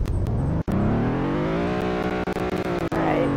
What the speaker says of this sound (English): let's rev it a few times,